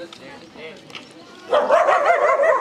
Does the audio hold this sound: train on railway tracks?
no